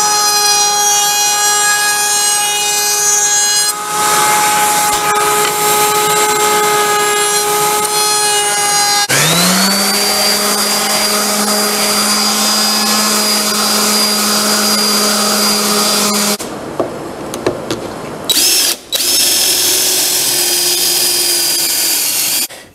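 Router rounding over the edges of oak desk pieces, a loud, steady high whine with shifting pitch as the bit spins up and cuts, broken by short pauses near the end.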